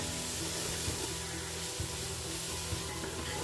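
Crushed shallots and green chilies sauté in a pan for chicken kurma, giving a steady, dense sizzle with a few soft stirring knocks underneath.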